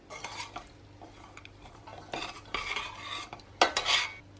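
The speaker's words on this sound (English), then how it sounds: "So just keep stirring it. We'll get all of the chocolate to melt." A chocolate mixture with Greek yogurt being stirred as it melts in a pan, quiet spoon scraping and clinks against the pan with faint sizzling, growing louder toward the end, no talking.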